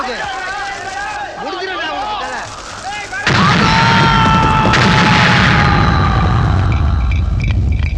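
A loud, dense roar of explosions and crackling blasts suddenly erupts and continues, following a few seconds of quieter, busier background noise.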